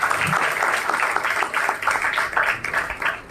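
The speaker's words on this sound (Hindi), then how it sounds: "हम जोरदार ताली बजाएंगे हमारे पास्टर साहब के लिए।" A church congregation claps together during a Sunday service, a dense, steady patter of many hands at moderate distance with faint voices mixed in.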